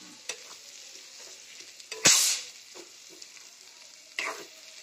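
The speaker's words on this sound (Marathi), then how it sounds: "मिक्स केली मिरची आणि काळा मसाला." Chili and black masala being stirred into hot oil, a low background sizzle punctuated by several sharp spoon or spatula clanks against the pan, one louder scrape in the middle.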